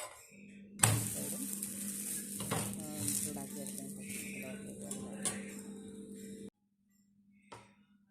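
Ghee hits a dosa on a hot pan with a sudden loud sizzle that settles into a steady crackling fry with faint clinks, then cuts off into near silence before one last brief scrape.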